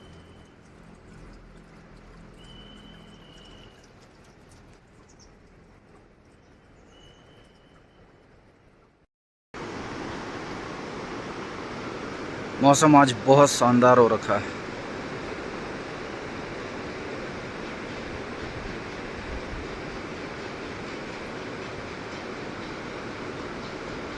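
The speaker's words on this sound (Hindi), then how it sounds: "माँ गंगा की गर्जना।" The Ganga river roars through the Harsil valley as a loud, steady broadband rush of water, with a brief harsher burst partway through; quiet ambience precedes it and someone speaks.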